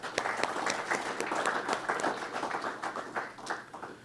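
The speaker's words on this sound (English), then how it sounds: "please give them a round of applause" Applause from a press conference audience for a newly introduced wrestling head coach, steady dense clapping across the whole stretch at moderate distance, with no talk over it.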